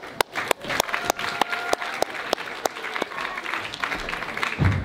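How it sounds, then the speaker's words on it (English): Audience applauding Team Two at a school presentation, scattered claps with several sharp, close individual hand claps standing out over a thinner crowd clapping, fading toward the end. "Thank you, Team Two. Round of applause."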